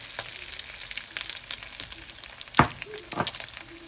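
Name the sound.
steak sizzling as it is added to the pan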